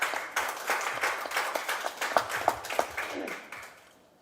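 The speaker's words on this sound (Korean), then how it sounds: "박수로 환영해 주시기 바랍니다." Audience applause at a church gathering in Suwon Myungsung Church, welcoming the presiding pastor to the podium; a steady wash of clapping with a few sharper individual claps, fading out near the end.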